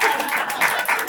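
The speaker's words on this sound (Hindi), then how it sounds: "अपने लिए तालियां बजाओ।" Applause and clapping from a Gen Z poetry gathering (mehfil) audience, broad and steady for about a second with slight swells, fairly close.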